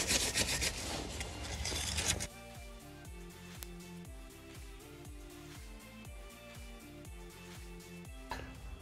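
Brake dust being scrubbed and rubbed out of Scania truck brakes during a pad change, a steady rasping scrape with louder, busier scrubbing at the start and a rhythmic clicking pattern after, no talk.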